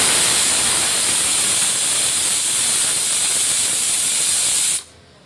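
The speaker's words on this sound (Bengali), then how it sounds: "4টে সিটি দিয়ে আমি প্রেশার কুকারটা নামিয়ে নিয়েছি।" A pressure cooker cooking khichdi releases a loud, sustained hissing jet of steam, steady and close for several seconds before cutting off abruptly.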